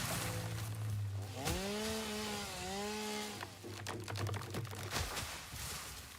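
A chainsaw cutting down trees in the factory-building game Satisfactory runs as a steady low engine drone, breaks off into a rising whine with harmonic sweeps, then resumes its buzzing cut before stopping near the end.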